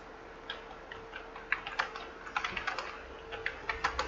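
Keys on a computer keyboard click steadily as text is entered in Microsoft Word, a light, close patter of irregular taps over a faint steady hum, with no talking.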